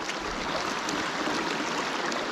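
Pocket water of a mountain stream rushing and burbling around rocks during dry fly fishing, a steady close roar of flowing water without pause or speech.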